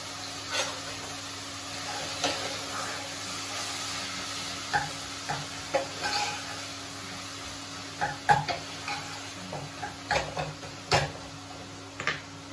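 Food frying in a pan, with drumstick pieces and tomato being cooked, a constant close sizzle punctuated by repeated sharp stirring and scraping knocks, no voices.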